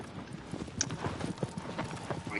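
Hooves of a horse galloping in the video game Shadow of the Colossus, a quick steady clip-clop rhythm running throughout at moderate level, with a brief whinny-like accent partway through.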